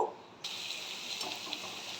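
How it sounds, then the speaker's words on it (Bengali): Onions fry in a little oil in a kadai: a soft start, then a sudden steady sizzle that holds close and even, with faint popping, no voices. "পেঁয়াজটাকে আমি এই সময়তে ভেজে নেব।"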